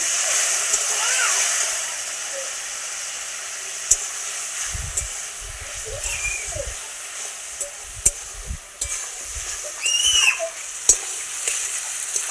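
Fried potatoes sautéing with spice masala and a splash of water give a loud, hissing sizzle with scattered stirring scrapes, while a voice murmurs faintly now and then.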